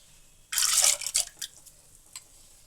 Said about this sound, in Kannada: ಬೇಳೆ ತೊಳೆದಿಟ್ಕೊಂಡಿದ್ನಲ್ಲ ಅದು ಹಾಕ್ಕೋತಾ ಇದ್ದೀನಿ ಇವಾಗ